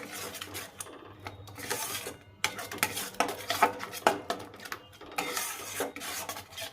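Beans frying in a pan over a low gas flame and being stirred, with repeated scraping and metallic clinks of a spoon against the pan over a soft frying hiss, in uneven bursts with no talking.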